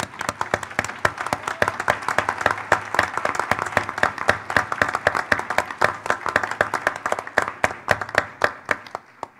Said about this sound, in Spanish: quiero que les demos un gran aplauso a todos los funcionarios de este sector.